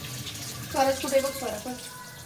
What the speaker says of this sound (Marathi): मस्त पाणी असं निंदळून घ्यायचं सगळं पातीचं स्वच्छ